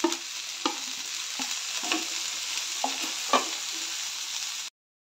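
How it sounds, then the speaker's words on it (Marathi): Okra and garlic stir-fried together in a pan sizzle steadily up close, with several distinct spatula knocks and scrapes against the pan before the sound cuts off abruptly near the end, no voices. "त्यानंतर लसूण आणि भेंडी एकत्रच घालते. भेंडी घालून चांगलं परतून घ्यायचं आहे."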